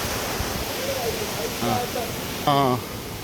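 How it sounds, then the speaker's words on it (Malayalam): The Kalkund waterfall rushes over rocks in a steady broad roar that runs through the whole stretch, with brief voices heard over it. "വെള്ളച്ചാട്ടം ഇങ്ങനെ വരികയാണ് പാറകളിലൂടെ ഇങ്ങനെ"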